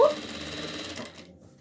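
A sewing machine topstitches along the seam of a rag doll's hat at a long stitch, a brief buzzing run of about a second that stops abruptly.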